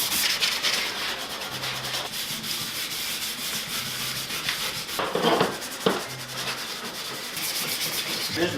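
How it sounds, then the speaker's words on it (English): Sandpaper in a hand sanding block rubs over a car body panel in a steady, continuous scraping rasp, close and fairly loud, with brief stronger strokes partway through and no talking. "you just stick any sandpaper you want into this thing, and it's nice because it like conforms to your hand"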